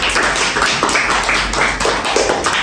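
Steady, dense clapping fills a group counseling session on a classroom topic, a continuous close wash of hand claps with no talk over it.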